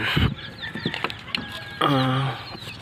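Silkie chickens cluck and call close by in a short run of calls, ending in one longer drawn-out squawk.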